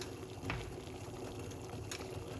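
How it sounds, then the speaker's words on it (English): Water at a rolling boil in a pot for ginger lemon tea, a steady close bubbling hiss with no one talking over it. "That means the water is just boiling."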